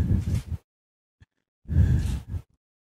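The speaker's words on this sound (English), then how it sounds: "You need to breathe in." Two deep, breathy inhales with a short gap of silence between them, heard close and alone with no talking.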